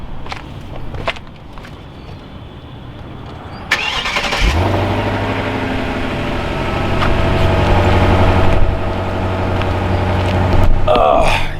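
Straight-piped V8 Genesis sedan cranks and fires up after a few quiet footsteps, then settles into a loud, deep idle with revving swells, close and continuous to the end.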